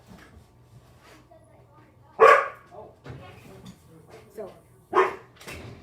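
A dog barks sharply twice, close and loud, with a pause between, over a background of steady talk from a person speaking nearby.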